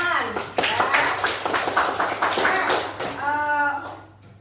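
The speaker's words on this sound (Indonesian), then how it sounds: "Tepuk tangan ya." A class of students clapping hands together at the end of a lesson, a brief burst of quick claps mixed with voices talking and calling out.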